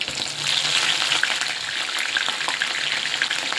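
Curry leaves dropped into hot frying oil for a garlic kebab give a close, steady crackling sizzle with sharp spits and pops throughout, no voices over it.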